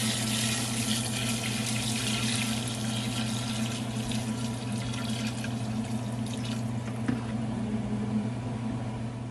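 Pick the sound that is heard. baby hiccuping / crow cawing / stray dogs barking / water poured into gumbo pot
water poured into gumbo pot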